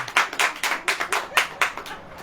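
A church congregation claps hands in a steady rhythm during a sung Hindi prayer service, roughly four claps per second, moderately close and alone without talking.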